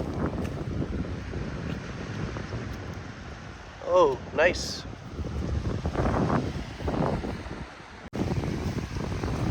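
Wind and surf wash steadily over the microphone on Mandvi beach, a continuous broadband roar of sea waves, with a brief exclamation from a voice partway through.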